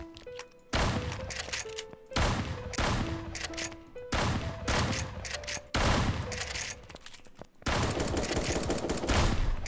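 Rapid bursts of gunfire from a shooter video game, several loud volleys of shots separated by brief pauses, with sustained automatic fire near the end.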